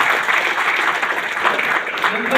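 An audience breaks into loud, dense applause for a guest at a gathering, with continuous clapping and some crowd noise throughout.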